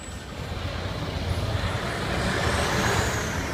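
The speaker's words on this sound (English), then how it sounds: "There's lots of traffic out there." Busy Hong Kong street traffic near a wholesale market by the harbour, a steady broadband roar of trucks and cars with a brief air-brake hiss, moderately loud and continuous with no talk.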